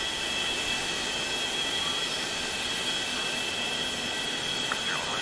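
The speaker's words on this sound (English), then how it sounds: "starting now engine number 1." Boeing 737-200 engine number 1 starting in a flight simulator game, heard as a steady, loud, unbroken roar with a high whine that holds evenly for about five seconds, with no talk.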